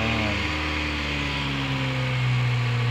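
A Honda Civic engine idles after an oil treatment, a steady close hum with a smooth drone and a faint rising whine, with no talking.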